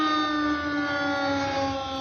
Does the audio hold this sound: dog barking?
no